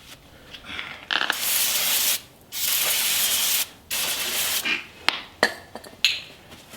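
A wheel hub part from a 1966 Impala being scrubbed clean, with long loud abrasive rubbing strokes separated by short pauses, then a few quicker scraping bursts.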